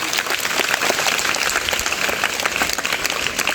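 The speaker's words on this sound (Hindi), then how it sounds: "ताली बजाओ इसके लिए" Children clap together at a workshop on child crime and cyber crime, a dense, steady burst of applause that holds evenly at close range for a few seconds with no talk over it.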